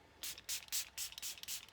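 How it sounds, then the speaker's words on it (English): Several short hissing spritzes of Catrice Prime and Fine Illuminating Setting Spray, misted onto a made-up face at close range, about five or six quick bursts in a row with brief pauses between them. "And then I take some setting spray."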